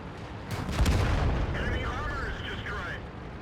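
Tank cannon fire in the World of Tanks video game lands with a heavy booming blast followed by a rumbling decay, while someone talks over it.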